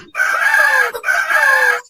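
Two loud, sustained rooster crows ring out back to back in a cartoon, each a long bright call with a brief gap between them.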